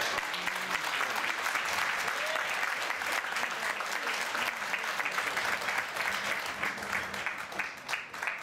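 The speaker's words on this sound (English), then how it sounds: "How about another round of applause for Simeon?" An audience at a high school's 50th anniversary gala gives sustained, dense applause, steady clapping filling the room throughout with no break.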